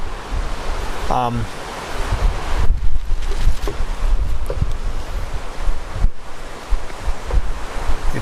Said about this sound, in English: It's getting really windy out here.